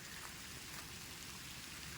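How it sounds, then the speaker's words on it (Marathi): Heavy rain pours down at night beneath mango trees, a dense, steady hiss with no pauses and no voices. "पाऊस धोधो परायला लागला आहे"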